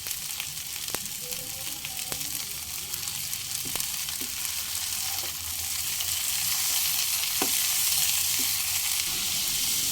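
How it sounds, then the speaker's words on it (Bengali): Pointed gourd pieces fry with lightly browned onion in a pan over medium flame, giving a steady, close sizzle, with scattered clicks and scrapes as the pieces are stirred around. "মিডিয়াম ফ্লেমে এভাবে নাড়াচাড়া করে পটলগুলোকে ভেজে নিতে হবে"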